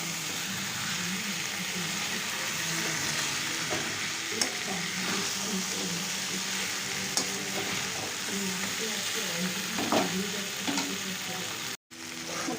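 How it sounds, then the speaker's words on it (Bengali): Cauliflower, potato and peas fry and get stirred in a pan, giving a constant close sizzle with soft scraping and shuffling throughout and a brief break near the end. "ভালো মতো নেড়ে চেড়ে আরও কিছুক্ষণ এটা কষাতে হবে।"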